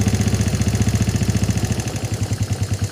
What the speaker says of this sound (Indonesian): untuk mesin sudah menyala, Kang Bro, dan sudah tidak banjir lagi